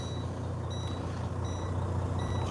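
A Freightliner truck engine warms up, idling with a low, steady rumble at close range, while faint intermittent beeps sound over it.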